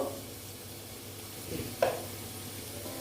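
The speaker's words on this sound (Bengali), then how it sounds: "দিয়ে এবার আমি এটাকে ভালো মতন ভেজে নেব মানে কষিয়ে নেব" Banana stem curry with turmeric sizzles and fries in a pan, a quiet steady hiss broken by a couple of stirring scrapes and clinks, with no voices.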